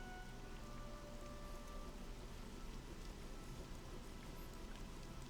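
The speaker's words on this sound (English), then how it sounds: "Yes, it is raining" Steady rain falls in the Morrowind multiplayer game world, a dense, even hiss of drops that holds at the same level from start to finish, with no voices over it.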